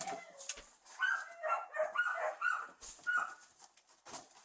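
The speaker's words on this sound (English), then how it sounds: "Is that another dog?" A dog barks and yelps in a quick, irregular series of short, faint-to-moderate calls, somewhat distant, repeated through the stretch with no clear speech over it.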